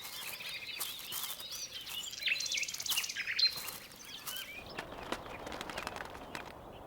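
Woodchat shrikes call at the nest with bright, scratchy chirps and short twittering phrases. The calls are close and fairly loud at first, then thin into sparser, fainter notes over a soft outdoor background.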